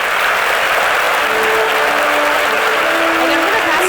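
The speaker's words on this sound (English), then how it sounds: "Please give him a round of applause." A conference audience claps steadily for a panel moderator, a loud, dense wash of applause from start to finish, with a brief whistle-like tone rising near the end.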